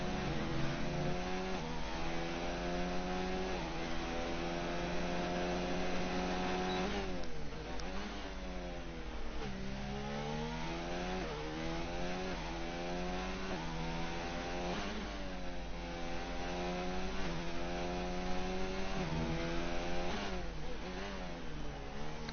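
An F1 car on a flying lap at the Bahrain Grand Prix in the F1 2019 video game, its engine screaming at high revs, with repeated downshifts and rising upshift sweeps as it brakes into and powers out of corners, loud and continuous.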